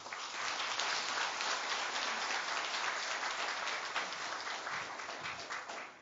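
Audience at a Jeju roundtable on strategic partnership applauds steadily for about six seconds, a dense, even wash of clapping that fades slightly at the end, with no voices over it.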